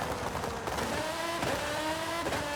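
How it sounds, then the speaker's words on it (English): A Lamborghini Essenza V12 race car in Forza Horizon 5 roars with a loud, rasping exhaust note, its pitch climbing through the revs and dropping at each gear change, steady and close with no talk. "I do love the sound of it. This Lamborghini Essenza V12 race car"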